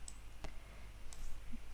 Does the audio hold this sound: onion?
no